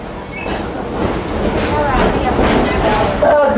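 A train rolls along the rails at Dollywood theme park with a steady rumble and rhythmic clatter, growing slightly louder, with a faint wheel squeal near the end.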